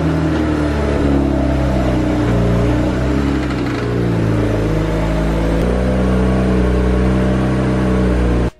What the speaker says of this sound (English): let's go ahead and get the car in the garage